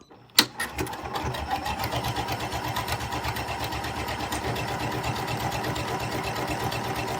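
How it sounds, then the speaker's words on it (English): A Janome Continental M6 sewing and quilting machine stitching a buttonhole automatically, starting with a click and then running in a fast, even mechanical needle rhythm that continues steadily and close by. "I'll just press the start button, and the machine can do all the work by itself"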